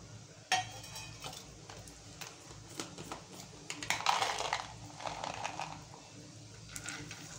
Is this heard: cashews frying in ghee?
yes